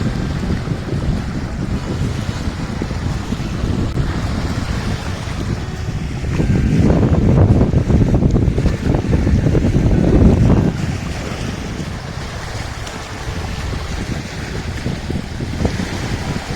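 Water splashing and lapping against a small rowing boat on the Shetrunji river, with wind buffeting the microphone; a steady wash that swells louder in the middle before settling back, no voices.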